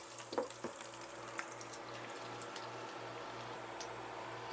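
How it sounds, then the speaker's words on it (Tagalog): Garlic frying in hot cooking oil in a pan, a faint, steady sizzle with a few soft crackles and pops early on, heard alone with a low background hum. "At kapag mainit na ang mantika mga kajuit ay lalagay na natin itong bawang."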